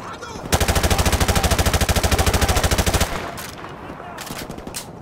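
Loud rapid machine-gun fire in Call of Duty: Modern Warfare Remastered, a steady fast burst of evenly spaced shots lasting a few seconds, then scattered distant shots and battlefield noise.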